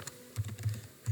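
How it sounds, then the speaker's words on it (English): Computer keyboard typing, a short run of close, soft key taps with a brief pause, with no talking. "So here we type"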